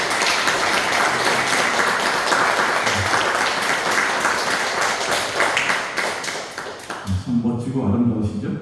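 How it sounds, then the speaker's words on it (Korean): Church congregation clapping in welcome for a retired member during a laity Sunday service, sustained dense applause that thins out toward the end as a voice begins speaking over it. "우리 잠깐 박수로 좀 환영하겠습니다."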